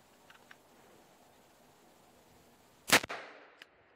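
A single loud, close handgun shot fired at a target on a range, cracking sharply and trailing a short echo, after a few faint clicks and a quiet background.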